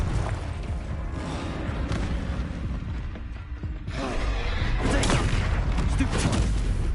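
Confringo explosion spell cast in Hogwarts Legacy, a dense rumbling burst of booms and crackling impacts that swells, briefly eases, then surges louder again, with no talking.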